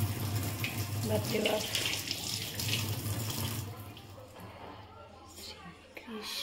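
Water runs steadily from a tank tap in a continuous gush that eases off partway through, with a woman's brief exclamation over it.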